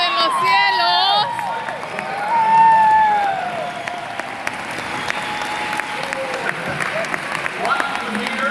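Loud, sustained applause from a large congregation at a bilingual Spanish-English sermon, with scattered whoops and cheers. It swells and holds steady for several seconds, and voices carry through it.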